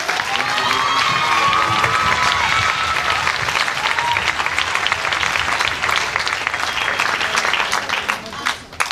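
A school concert audience applauds and cheers after a slam performance, loud sustained clapping with shouts and children's voices mixed in, continuing for several seconds before tapering.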